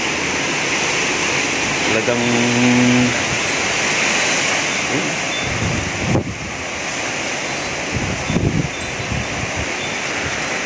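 Strong typhoon wind roars steadily in a broad, continuous rush, with gusts and microphone buffeting; someone speaks briefly over it.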